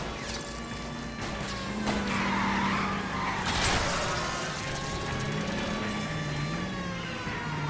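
A car chase in the video game L.A. Noire, with a steady engine drone and whining, wavering tire squeals from a skidding car, plus a sharp crash-like burst midway.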